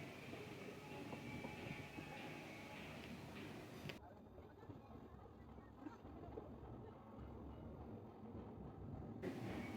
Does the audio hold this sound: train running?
yes